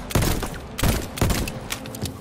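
Gunfire from a weapon in the video game VoidTrain: three loud, close bursts of shots in quick succession, each a heavy blast with a rattling tail, the last trailing off into scattered clatter.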